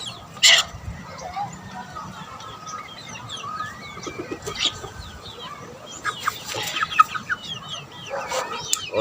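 Chickens cluck and chatter in a farmyard of fighting-cock breeders, a sharp squawk early and scattered calls throughout, with someone speaking faintly in the background.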